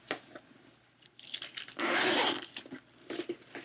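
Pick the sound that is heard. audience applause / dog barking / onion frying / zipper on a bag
zipper on a bag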